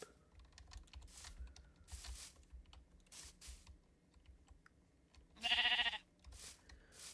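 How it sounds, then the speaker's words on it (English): Faint clicking and soft rustling noises, then a single short, bright sheep bleat rings out clearly near the end. "ooh, Mr. Sheep."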